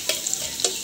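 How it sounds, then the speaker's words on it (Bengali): Five cloves of chopped garlic sizzle in hot oil for a Bengali singi fish curry with pointed gourd, a steady close hiss with a couple of brief louder spits. "রসুনটাকে খুব ভালো করে ভেজে নেব"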